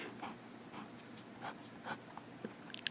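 A Pilot Explorer fountain pen with a smooth Pilot nib writes on paper, making faint, soft scratchy strokes in irregular short bursts, close and quiet.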